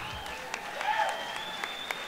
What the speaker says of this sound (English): Big round of applause for Sonny Garcia.